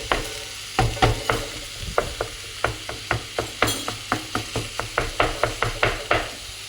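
Ground meat for a bolognese searing in a hot pan, a constant sizzle punctuated by a steady series of sharp scraping knocks as a utensil breaks up and stirs it, with no talking.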